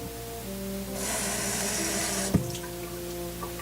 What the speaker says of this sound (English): You can rinse with more warm water.